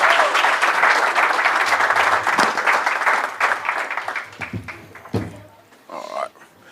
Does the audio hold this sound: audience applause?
yes